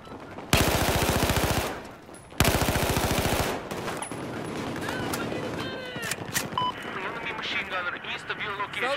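Two long bursts of rapid automatic gunfire, loud and close, from a light machine gun in the video game Battlefield 4, followed by scattered shots, radio chatter and voices talking over game noise.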